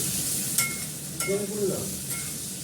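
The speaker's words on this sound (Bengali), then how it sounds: "আলুটা ভেজে নিয়েছি, পেঁয়াজটা দিয়ে দিয়েছি" Potatoes and onions frying in a pan for a Bengali curry, a steady close sizzle with a few brief stirring scrapes and clinks on top.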